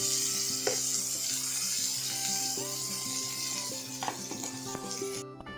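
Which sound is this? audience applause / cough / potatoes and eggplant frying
potatoes and eggplant frying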